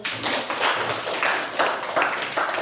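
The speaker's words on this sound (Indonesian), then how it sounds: "kasih tepuk tangan" A classroom of students claps for a classmate's correct answer, a loud, close burst of rhythmic group clapping that swells in repeated waves, roughly in unison, across the whole moment.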